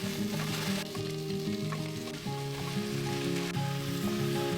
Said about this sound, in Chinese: 蔬菜翻炒断生后，